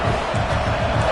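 Broad, steady roar of a football stadium crowd during a game, loud and continuous with a dense wash of voices and no single speaker standing out.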